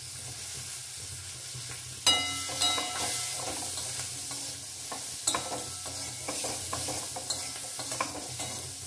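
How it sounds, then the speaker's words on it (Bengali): Onion is stirred in a pan of hot oil with a soft continuous sizzle, broken by several sharp scrapes and clacks of the spatula against the pan. "পেঁয়াজটা ভালো করে একটু নাড়াচাড়া করে নেব।"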